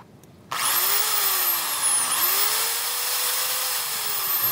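Electric hand drill with freshly replaced carbon brushes switched on and running steadily, a loud continuous motor whine with a slight pitch dip and recovery midway, alone without talk.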